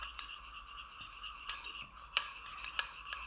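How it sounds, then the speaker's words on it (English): Food colouring drops stirred through oil, giving a soft, steady scraping and swishing of a utensil against a container, with a couple of sharper clinks partway through. "at the moment there's a big drop of food colouring, and we're going to give it a stir"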